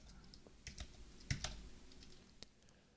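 Scattered keystrokes on a computer keyboard, a few quiet, irregular clicks and taps with pauses between them, close by and otherwise silent.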